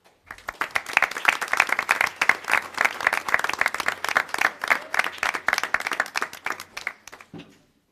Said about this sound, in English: they all deserve a big round of applause